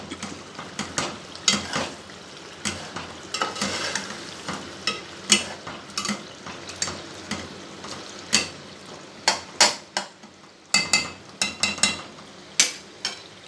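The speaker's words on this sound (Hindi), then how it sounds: "मसाला भुन गया हमारा बहुत अच्छे से।" Tomato spice masala for a spiced okra sabzi sizzles steadily in a pan, punctuated by frequent sharp scrapes and clinks of a spoon stirring it, close and fairly loud throughout.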